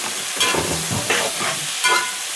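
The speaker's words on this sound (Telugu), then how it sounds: "జొన్న ఇట్లా కదిలిచ్చి వంకాయ ముక్కలు వేసేసుకున్నాం" Brinjal pieces for curry stirred in a pan with a little turmeric: scraping, clattering stirring strokes come in a few bursts over a low steady sizzle, close and moderately loud, with no talking.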